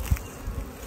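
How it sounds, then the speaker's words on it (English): Bees hum around hive boxes after almond pollination, a brief close buzz with a soft thump near the start, outdoors in an apiary. "Look at all the bees already back up there."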